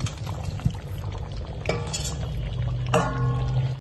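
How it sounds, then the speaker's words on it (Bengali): Fried potatoes are tipped into simmering mutton curry, giving a bubbling, wet cooking sound with soft clatters and scrapes of a utensil against the pot, close and steady throughout. "এবার আমরা এর মধ্যে আলুগুলোকে মিশিয়ে দেব, যেগুলো আমরা আগেই ভেজে রেখেছিলাম।"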